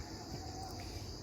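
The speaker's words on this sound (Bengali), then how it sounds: "চারিদিকে ঝিঝি পোকার ডাক ডাকে শুন ভালো করে শোনো" A steady chorus of crickets chirps continuously at dusk behind a house in open fields, soft and evenly sustained with no other sounds.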